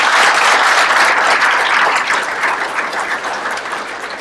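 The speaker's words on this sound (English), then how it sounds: "Give them a big round of applause." Loud, sustained applause from a large crowd, dense clapping that fades slightly toward the end.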